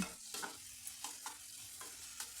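Pumpkin and vegetables for a butter soup being stirred in a pan over a low sizzle, with a steady beat of soft spoon scrapes and taps, quiet and close.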